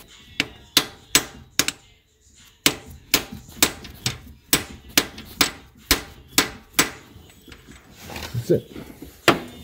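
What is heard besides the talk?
hammer tapping a driver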